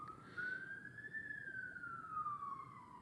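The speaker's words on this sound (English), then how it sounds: "Shout out to Hollywood Boulevard and the ambulance riding down the street or the fire truck." Ambulance or fire truck siren on Hollywood Boulevard, a single faint distant wail rising and falling slowly over steady street rumble, with no voices.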